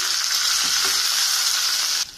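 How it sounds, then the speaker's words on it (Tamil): Onions with salt sizzle in a hot pan with a steady, loud hiss that drops off abruptly near the end. "வெங்காயம் நல்லா வதங்க ஆரம்பிச்சிச்சு."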